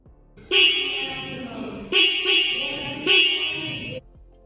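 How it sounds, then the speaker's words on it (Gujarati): The horn of a 2025 Honda Highness CB350 motorcycle honks three times up close, each blast loud, steady and harsh, the last held longest before cutting off. "હોર્ન ચાલુ કરીને તમને બતાવું કેવો અવાજ આવે છે"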